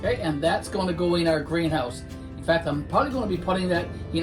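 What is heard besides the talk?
No everyday noise stands out behind the speech.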